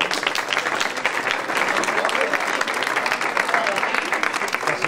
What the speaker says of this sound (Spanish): dar las gracias y un aplauso fuerte a todos los monitores